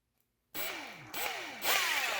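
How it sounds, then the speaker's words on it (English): An impact wrench spins up on a freewheel removal tool in three bursts, a whining motor sweeping in pitch with each trigger pull, close and loud after a brief silence. "make sure your impact wrench is going counterclockwise"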